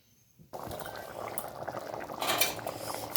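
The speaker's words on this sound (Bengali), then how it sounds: "এবার দমটা ফুটতে টাইম লাগবে একটু।" Aloo dum, a potato curry, bubbles in a pot with a close, wet, popping simmer that starts suddenly after a short quiet moment. A few utensil clinks sound over it, and it grows louder toward the end.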